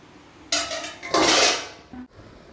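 Dishes and metal pots clatter as they are taken out in a home kitchen, two loud close bursts of clanking cookware followed by a brief ring.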